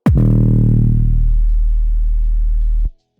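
A single sustained, heavily distorted drum and bass synth bass note made in Serum, its low end maxed with a Pultec EQ for a thick, booming bottom, starting sharply and holding for nearly three seconds before cutting off.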